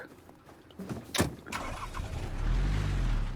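A truck engine starts in the video game Rust, with a brief cranking whine, then the engine catching into a low, steady idle rumble nearby.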